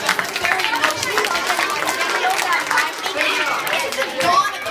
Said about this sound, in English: Big round of applause for Big round of that.